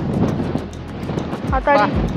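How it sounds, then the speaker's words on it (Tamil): Strong gusts of wind buffet a house construction site, a rough roaring rush against the microphone under a talking voice, loud and close. "ஆடி மாதம் காற்று ரொம்ப வெளுத்து வாங்குது, நிற்கவே முடியல."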